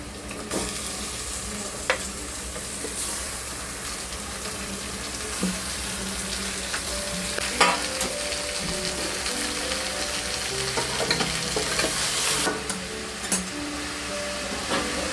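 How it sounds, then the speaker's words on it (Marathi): Marinated turmeric chicken hits a hot tempering and fries with a steady, dense sizzle, broken by occasional sharp stirring scrapes and clinks of the utensil against the pan; no one speaks. "त्यानंतर आपला चिकन जो मॅरिनेशन केलेला आहे तो चांगला फोडणीला त्याला द्यायचा."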